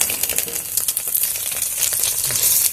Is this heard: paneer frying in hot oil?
yes